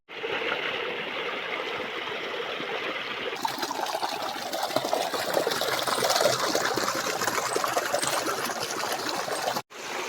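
Water runs steadily into a trough for buffaloes, a continuous close-up trickling and gushing stream that grows fuller midway through, with no talk over it.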